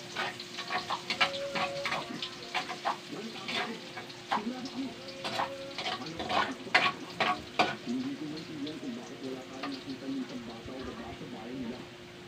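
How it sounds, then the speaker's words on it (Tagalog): Garlic sautéing in hot cooking oil in a pan, a close crackling sizzle broken by scraping stirs, with a person talking over it. "atin na po ilalagay ang bawang"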